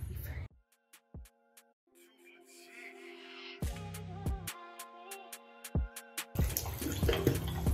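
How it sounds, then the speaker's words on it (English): Water runs from a bathroom sink tap during teeth brushing, a steady splashing flow with brief pauses and clinks, growing louder and denser toward the end. "And I'm gonna brush my teeth."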